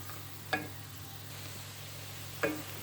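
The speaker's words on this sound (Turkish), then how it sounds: "Unun kokusu çıkanıncaya kadar kavuracağım." Flour toasts with onions in a pot, a faint steady sizzle broken by two sharp scraping strokes of a spoon against the pot.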